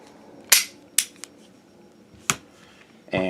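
Sharp metallic clicks and snaps from an empty Beretta 92 FS pistol being handled, four or five crisp separate clacks with short pauses, close and fairly loud in a quiet room.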